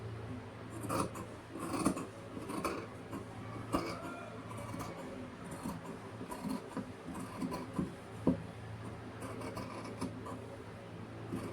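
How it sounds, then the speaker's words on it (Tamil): Scissors snip through blouse fabric at a tailoring table, a steady run of close, crisp cuts with soft rustling of cloth between strokes, with no talking. "வரைஞ்சதுக்கப்புறமா இப்போ நம்ம கட் பண்ணி எடுக்கலாம்."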